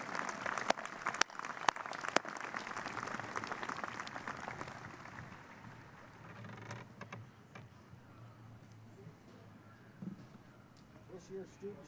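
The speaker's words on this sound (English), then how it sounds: "Please give them a round of applause" Commencement audience applauding award recipients at an undergraduate ceremony, a few sharp near claps over broad applause that gradually fades into quieter crowd murmur and faint voices.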